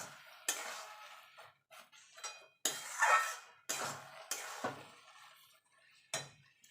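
Carrot halwa cooking with ghee is stirred in a pan, a spoon scraping and clattering in irregular bursts with quiet gaps between strokes, close and moderately loud, no voices.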